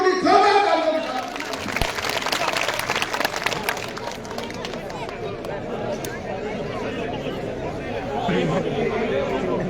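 A crowd at an outdoor political rally in Malkheda applauds, with a dense wash of clapping and crowd chatter continuing throughout while a voice speaks over it.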